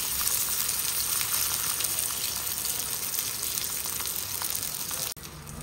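Goan beef cutlets fry in a pan with a loud, even, hissing sizzle that runs unbroken until it cuts off abruptly near the end; no talking.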